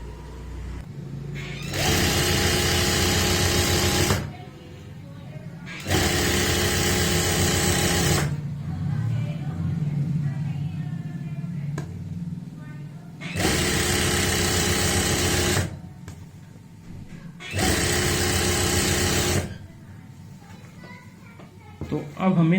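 Sewing machine runs in four loud, sustained bursts while stitching the seam of a palazzo pant. A voice talks in the gaps between runs, and a low hum carries underneath throughout.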